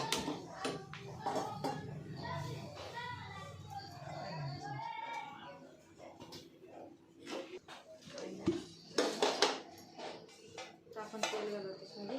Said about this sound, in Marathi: तर बघा वरती पातेलं ठेवलं